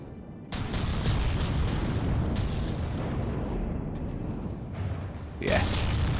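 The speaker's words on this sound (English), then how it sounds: "They're like twin missile launchers." Twin missile launchers firing in the naval combat game From the Depths, producing a dense, continuous roar of launches and blasts with a sharper surge near the end, heard under a voice.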